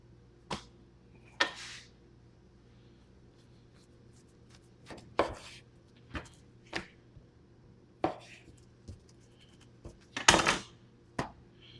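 A knife slicing Copper Creek premium ribeye steaks gives about a dozen sharp, isolated knocks against a cutting board, spaced irregularly over a quiet room hum.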